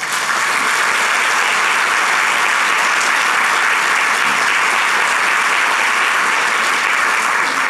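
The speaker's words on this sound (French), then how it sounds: "que je vous demande d'applaudir." Sustained, dense applause from a large hall of assembled ambassadors, loud and even throughout without a break or voices.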